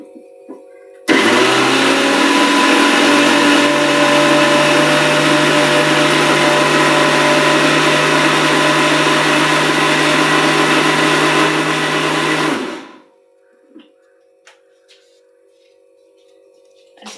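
A mixer grinder jar whirring loud and steady as it grinds a spice mixture for about eleven seconds, then cutting off abruptly, followed by near silence with a few faint clicks.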